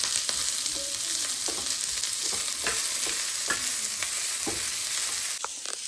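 Garlic, cinnamon, cloves, peppercorns and fresh ginger frying in a pan, a continuous close hiss of sizzling oil broken by occasional stirring clicks and scrapes.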